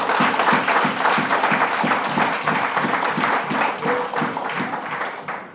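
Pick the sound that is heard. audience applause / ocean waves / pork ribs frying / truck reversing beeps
audience applause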